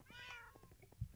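A single short, high cat meow from the game Minecraft sounds near and clear, followed by a couple of low thumps.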